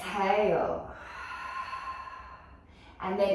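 A single audible exhale during a Pilates exercise, a soft breathy rush near the start with another breath at the very end, close and fairly quiet, with nothing else going on.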